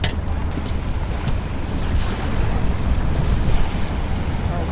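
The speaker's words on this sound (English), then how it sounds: "That was a lot of boat wakes." Choppy boat-wake water slaps and sloshes against a fishing boat hull amid wind noise, a continuous churning wash close by.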